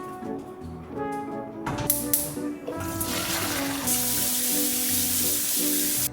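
Baby back ribs with a scoop of doenjang sizzle in a pan at home, starting with scattered pops and crackles that swell into a steady, close hiss, quiet overall with no speech.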